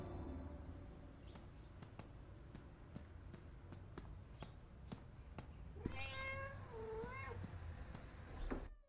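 In the horror game FNAF Into the Pit, a cat gives a clear, drawn-out meow partway through, over a faint steady background and a series of soft, regular ticking footsteps.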